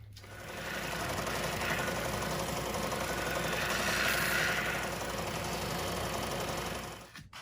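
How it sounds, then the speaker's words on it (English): Wood pieces for a desktop riser pressed against a power sander, a steady loud motor whine with a gritty abrasive rasp running continuously for several seconds before the machine winds down. "now I take it over to the sander and clean it up"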